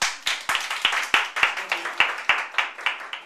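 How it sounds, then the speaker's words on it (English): Small audience clapping for a presenter after a talk, a sparse, close round of distinct individual claps in a loose, fairly regular rhythm, moderately loud. "So can we give him a good clap?"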